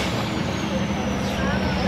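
An IVECO Stralis race truck with a 12.8 litre engine drifting on moderate terrain at a motor show in Wels, a steady loud engine roar with a low drone continuing throughout, with voices mixed in.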